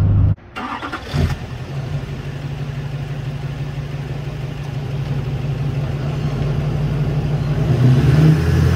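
A pickup truck engine towing a light 1,800-pound trailer loaded for scrap, with a brief clunk, then a steady loud drone that rises gradually as the vehicle pulls along, close and without talk.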